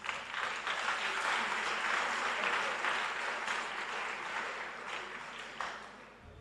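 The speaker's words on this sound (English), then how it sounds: "Can you give them a round of applause?" An outdoor audience at a government bicycle distribution event applauding, a moderate, continuous wash of clapping that holds steady and eases slightly toward the end.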